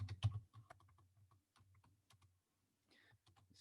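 Keys clatter on an old, worn computer keyboard whose letters have rubbed off, in quick uneven bursts of close clicks with a short pause midway.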